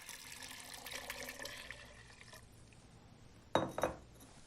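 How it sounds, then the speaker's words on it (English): Beef broth pours into a soup pot with ground beef and onions, a faint liquid trickle and splash for a couple of seconds, followed by a quiet pause and then a sharp clinking knock. "After draining off the liquid, we add some beef broth"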